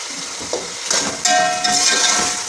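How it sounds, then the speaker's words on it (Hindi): Small boneless chicken pieces fry in a pan with a bright, continuous sizzle. Stirring clatters and scrapes break in intermittently, close to the listener. "तो अब मैं इसको फ्राई कर लेती हूँ"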